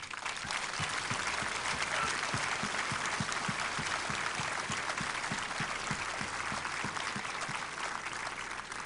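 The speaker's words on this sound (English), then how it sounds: "Please join me in applauding these magnificent drill instructors." An audience at a Marine Corps graduation applauds the drill instructors, a steady wash of clapping heard from a distance, fairly faint and continuous.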